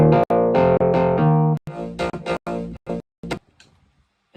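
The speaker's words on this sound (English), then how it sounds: "a cutoff filter to open up that bass sound." Electronic house bass sound with cutoff filter automation opening it up, played alone as short rhythmic chopped notes that thin out and fade into sparse stabs toward the end.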